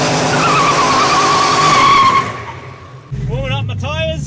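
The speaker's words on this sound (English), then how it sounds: "Warming up my tyres, my mud tyres." A race car on mud tyres does a loud burnout, a sustained screeching tire squeal with engine roar that fades after about two seconds, then someone talks over the idling engine.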